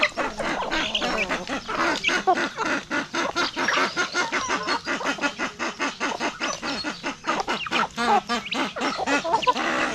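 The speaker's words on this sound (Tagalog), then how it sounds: "Ito mga manok na to dito. So halos lahat dito ay atin na. Mga Rhode Island." A flock of Rhode Island chickens clucks busily and continuously up close, with overlapping calls forming a dense, rhythmic chatter that never stops.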